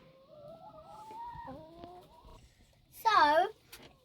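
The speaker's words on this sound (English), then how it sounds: "So, look in here, there's a chicken." Chicken on a farm at feeding time, giving a short, loud clucking squawk near the end after quieter people talking close by.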